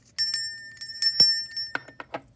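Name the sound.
bell being rung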